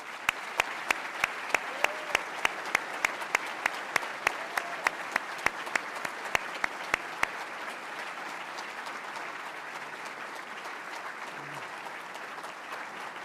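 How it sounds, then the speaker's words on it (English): Audience applause for new members at the NAE Class of 2013 induction ceremony, with a handful of sharp, close claps standing out early against a broad, steady roar of clapping that carries on without speech. "a round of applause for all the new members"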